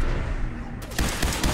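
Gunfire in Fallout 4 as the player takes a headshot: a loud, close report hits sharply after a stretch of dense game noise, with a few follow-up impacts trailing off.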